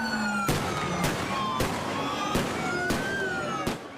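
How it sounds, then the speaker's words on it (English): Flashbang grenades explode at a protest against an ICE raid in downtown LA, with six loud, sharp blasts spaced roughly half a second apart over a siren wail and crowd din. "federal agents hurling flashbangs into the air, trying to scatter protesters during an ICE raid"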